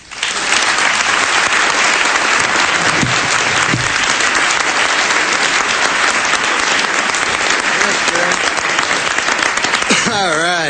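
A large formal dinner audience breaks into sustained loud applause welcoming comedian Norm MacDonald, a dense even roar of clapping that runs nearly the whole stretch before easing off at the end.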